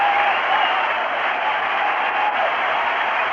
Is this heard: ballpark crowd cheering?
yes